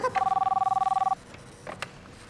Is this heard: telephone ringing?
yes